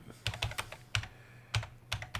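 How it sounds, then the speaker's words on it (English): Loud computer keyboard keys clack in quick, irregular bursts, each press sharp and close, with short pauses between the typing runs and no voices. "one of these days I'm going to have to do something about the keyboard sound"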